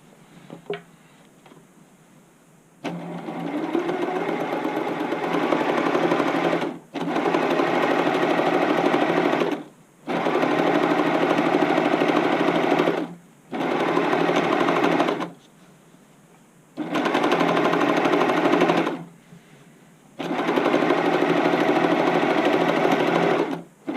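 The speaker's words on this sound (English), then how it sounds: "straight on back to the sewing machine" A sewing machine runs in repeated bursts of rapid stitching, each lasting a few seconds, separated by short pauses, loud and close.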